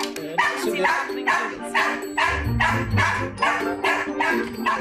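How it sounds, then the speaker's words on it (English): A dog barks repeatedly at a steady rhythm, about ten sharp, close barks in a row, with a low rumble underneath partway through. "As soon as Charlie started barking, Noodles was straight at that cat flap"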